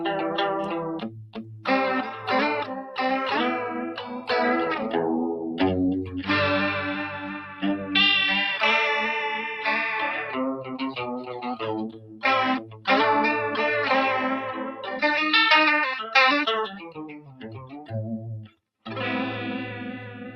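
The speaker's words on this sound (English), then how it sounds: "you can get that kind of slow, almost non-existent chorus sound, right down to a much faster one if you turn the knob" An electric guitar runs through a Universal Audio chorus pedal, playing chords and melodic lines with a shimmering, wavering chorus tone, loud and continuous for about twenty seconds with a brief pause near the end.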